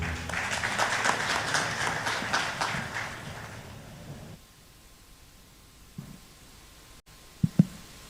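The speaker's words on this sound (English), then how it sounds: "Please give them a warm round of applause." Audience at a world leaders forum applauds a panel, a broad patter of many hands for about four seconds that fades out, followed by near silence and a couple of brief knocks.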